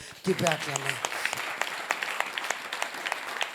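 A church congregation claps and cheers during a Sunday worship service in Chartres, a dense wash of applause running throughout, with a brief sung or shouted voice near the start.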